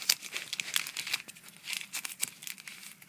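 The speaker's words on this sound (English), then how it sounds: "Bring the knife in here. I think I've cut into it." A knife cuts into a mystery package, producing close, quiet crinkling and rustling with short tearing scratches in an irregular rhythm, with no talking.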